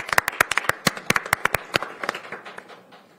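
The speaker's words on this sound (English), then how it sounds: "I invite everyone to join me in a round of applause." A small group at a county council meeting claps after a vote, sharp distinct hand claps tapping irregularly at first and thinning out over a few seconds.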